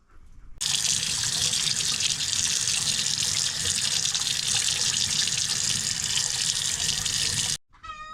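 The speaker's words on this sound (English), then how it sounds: "So I'm gonna wash them off really quick and show you what they look like." Freshly harvested purple potatoes rinsed under a running tap, a steady, loud rush of water that starts abruptly and cuts off near the end, with no talking.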